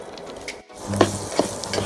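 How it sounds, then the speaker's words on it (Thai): Sliced onions sautéing in hot oil in a pan, a steady sizzle with stirring scrapes and a few clinks of a utensil against the pan, one brief pause in the middle, close and moderately loud. "ต่อไปเราจะมาผัดส่วนผสมให้มันหอมก่อนที่จะไปปัดกระทะร้อนแล้วนะ"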